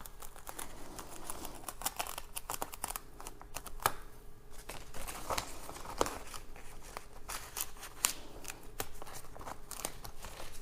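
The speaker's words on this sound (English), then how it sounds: "And now we're just going to take and slowly remove our paper backing off of this." Paper backing is slowly peeled off Oracal 651 vinyl laid on a ceramic tile, producing quiet, close, irregular crackles and ticks with a few sharper snaps spread across the stretch.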